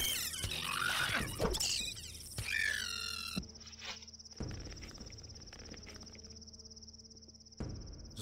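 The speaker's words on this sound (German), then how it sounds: "Mach die Heuschrecken kaputt." Grasshopper creatures in the video game Gothic 2 give a sustained high, buzzing chirp, joined by squeals, thuds and footsteps from combat, fairly loud with no talking.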